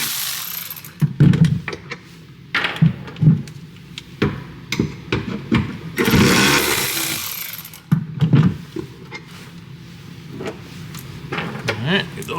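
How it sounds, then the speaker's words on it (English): Clicking ratchet and clanking tools removing bolts from a Ford Raptor's box link with a T30 bit, sharp metallic taps and bursts of ratcheting in a workshop, close and fairly loud. "we're going to grab a T30 and we're going to remove our bolts holding in our box link"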